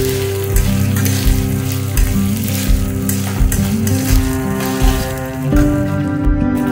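Ginger paste and spices sautéing in hot oil for a masoor dal bora curry, giving a steady, close sizzle that runs the whole time with a sustained tonal hum beneath it.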